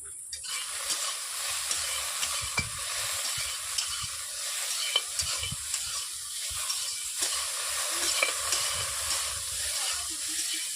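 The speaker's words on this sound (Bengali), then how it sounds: "এরপর আমি একটু অল্প করে স্বাদ মতো ভেন্ডি ভাজছি" Okra (bhindi) frying in a pan with a pinch of salt, a steady hiss of sizzling oil throughout with occasional scraping stirs of a spatula, close and fairly loud, no voices.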